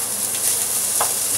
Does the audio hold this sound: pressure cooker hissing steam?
no